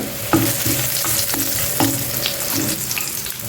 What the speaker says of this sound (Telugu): ఇవి వేగిన తర్వాత కొంచెం కరివేపాకు వేయండి ఇందులో